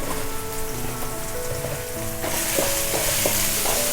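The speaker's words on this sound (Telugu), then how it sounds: "స్టవ్ స్లిమ్లో పెట్టుకొని మొత్తం అంతా ఫ్రై అవ్వనివ్వాలి." Ginger paste, turmeric and spices fry steadily in a pan over a low flame for an Andhra-style gongura chicken curry. A continuous, loud sizzle grows denser partway through, with occasional scraping knocks from stirring and no voices.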